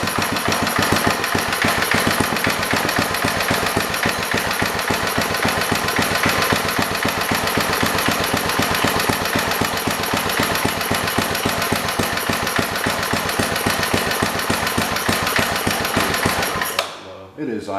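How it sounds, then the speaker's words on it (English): A junk garden tiller's small engine idles steadily and loudly throughout, a dense rapid chugging that continues until it cuts off near the end. "Sure is idling a lot better."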